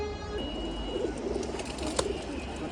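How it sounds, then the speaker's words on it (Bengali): Pigeons coo at a low, steady level in a loft of about 35 birds, with a faint chirp and a brief clatter partway through and no clear speech. "তো এই যে হচ্ছে কবুতরগুলা, মাশাআল্লাহ অনেক সুন্দর কবুতর।"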